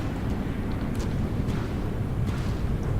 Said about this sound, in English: there's just too many guns shooting